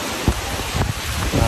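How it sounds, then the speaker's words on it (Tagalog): Gusty wind blowing by the sea in cold, rainy weather, a steady rushing roar with rumbling buffets against the microphone. No voices are heard. "Yan ang hangin, pabadya-badya."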